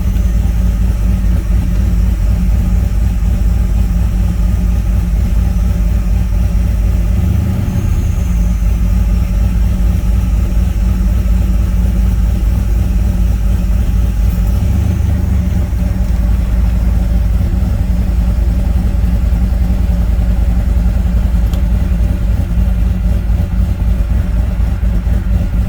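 A Chevrolet C10 truck with a swapped LSA 5.3 V8 runs steadily throughout, a loud, continuous low engine drone with two brief deeper surges as it is revved, heard alone without talk.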